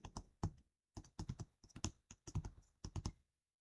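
Typing on a computer keyboard, close and quiet, in short bursts of quick key taps with brief pauses between words.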